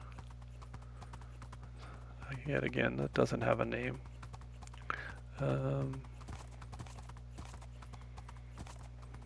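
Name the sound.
horse hooves clip-clopping in video game Minecraft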